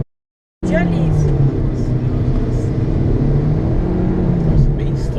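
A JAC T40 1.6 with a CVT automatic accelerates steadily while overtaking on the road. Its engine drones at a constant pitch under road and wind noise after a brief moment of silence.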